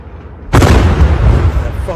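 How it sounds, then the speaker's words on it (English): A sudden loud gunshot bang erupts out of quiet, followed by a rolling, rumbling echo that lingers. "You can hear those initial gunshots."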